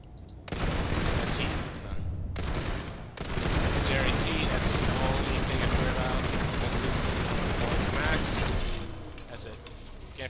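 A turret in the game Planetside 2 fires continuously in a dense, loud rattling burst that runs for several seconds until it overheats, with a short break near the start and a tapering end.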